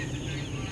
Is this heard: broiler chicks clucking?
yes